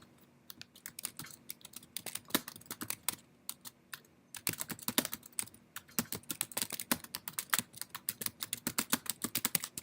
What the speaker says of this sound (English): they can type in what they want to search